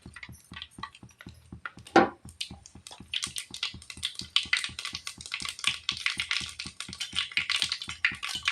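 Mustard seeds splutter in hot oil as a potato and pea kurma is started, with rapid crackling pops that thicken into a dense sizzle over a steady ticking, close at hand.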